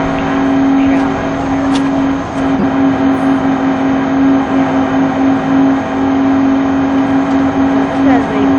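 Steady, loud engine drone from a semi-truck with a V12 and nitrous, modded into a racing video game, holding a constant pitch throughout with a voice talking over it.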